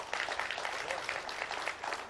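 Audience applause at a festive Georgian TV gathering, steady clapping from a crowd filling the whole stretch at moderate volume with small swells.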